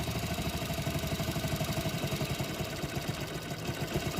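A Hero Splendor Plus motorcycle idling while its idle screw is adjusted, a steady close mechanical putter with an even, rapid beat and light clatter throughout, no talking.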